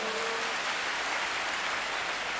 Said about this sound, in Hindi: विश्वास करने वाले ताली बजा के परमेश्वर की धन्यवाद करें।